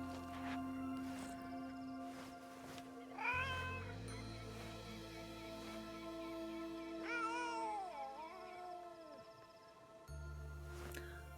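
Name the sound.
cat meowing in a video game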